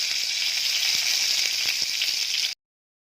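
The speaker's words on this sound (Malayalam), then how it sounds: "ഈ നാരങ്ങ അതിലോട്ടിട്ട് നന്നായി ഇളക്കി കൊടുക്കുന്നുണ്ട്" Lemons for Kerala-style lemon pickle roasting in a pan, giving a steady close hiss of sizzling with a few soft stirring taps, which cuts off abruptly into silence near the end.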